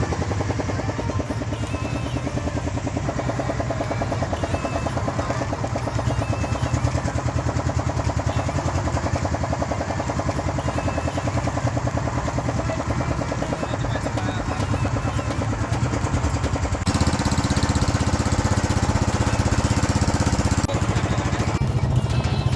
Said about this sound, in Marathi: तर फायनली इंजिन आता सुरू झालेलं आहे